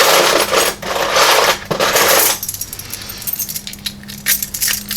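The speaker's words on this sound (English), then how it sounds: "let me pull out some American keys here." A bunch of American padlock keys jangle and clink loudly as they are pulled out, a burst of bright metallic rattling for about two seconds, then lighter scattered clicks and taps.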